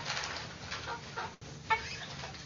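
Chickens clucking in short, irregular bursts over a steady background hiss, with a brief gap partway through.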